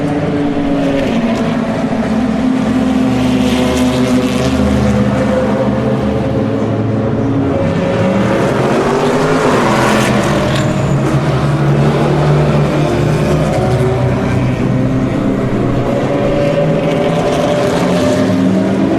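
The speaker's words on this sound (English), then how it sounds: "Here the cars come." Race cars, including the Delta Wing, roaring down the start-finish straight, weaving to keep tyres warm; a loud, continuous wall of engine noise with overlapping pitches as the cars pass close by.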